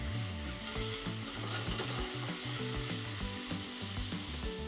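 Tuna and green peppers sizzle steadily in a frying pan while being stirred, a continuous close frying hiss with scraping and clinking from the utensil recurring throughout, no voices.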